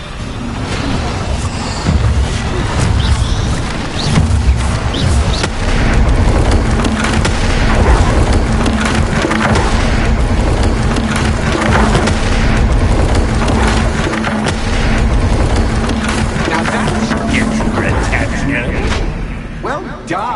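Repeated Confringo blasting-spell explosions from Hogwarts Legacy on PS5: heavy booming blasts and crackling bursts, loud and dense throughout, layered with game music and spoken voices.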